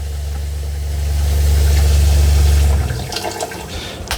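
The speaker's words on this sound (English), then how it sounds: "You hear the pump." The water pump of a Coleman 17B camper travel trailer hums steadily for a few seconds, a close, even motor drone that then cuts off into quiet, faint rustling.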